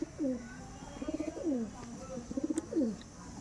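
Several soft, rolling coos from Andhra pigeons repeat close by, low and throaty, with faint background noise and no talking.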